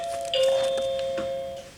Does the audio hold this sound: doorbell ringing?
yes